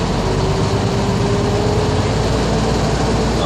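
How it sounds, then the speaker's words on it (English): A truck engine idles steadily during a pre-trip inspection, a loud, continuous low rumble with a faint whine running through it and no talk. "Okay, governor's gonna pop in a second."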